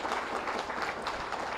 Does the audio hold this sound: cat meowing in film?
no